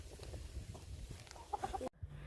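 Chickens cluck in short bursts against a low outdoor rumble at a park in Gapyeong, the clucks fairly close and growing busier toward the end.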